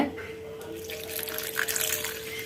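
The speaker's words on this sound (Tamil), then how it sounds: "கொஞ்சமாக தண்ணி சேர்த்துக்கிறேன்." Water splashes and pours steadily into a cooking pan, with a bright, running hiss and a faint background tone.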